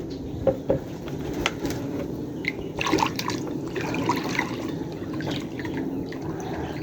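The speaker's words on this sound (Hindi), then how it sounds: "2 मिनट रुको, मैं पानी डाल दूँ उसमें से।" Water pours and trickles into a container outdoors in a rural setting, a continuous splashing gurgle with occasional drips, faint bird chirps and knocks in the background.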